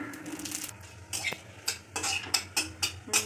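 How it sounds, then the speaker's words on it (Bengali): Dry red chillies and bay leaves tempering in mustard oil in a pan, with a soft sizzle under a series of sharp utensil clinks and stirring scrapes, close and moderately loud. "লঙ্কা ফোড়ন দেবো, শুকনো লঙ্কা তেজপাতা ফোড়ন দেবো"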